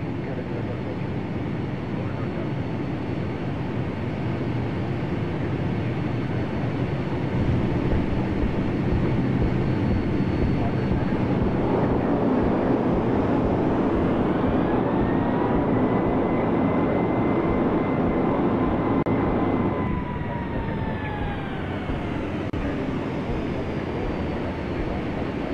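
A Boeing 757 lands at MKJP in the Flight Simulator X game, a continuous loud engine roar and rushing rumble with tones sliding as power changes, no talking.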